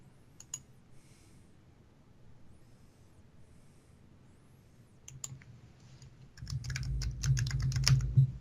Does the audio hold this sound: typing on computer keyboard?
yes